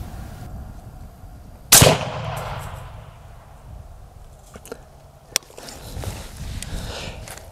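A Barnes .308 Win 130-grain Vor-Tx rifle round fired into a ballistic gel block outdoors, one loud sharp shot with a rolling echo, followed by a faint later crack and low background rustle.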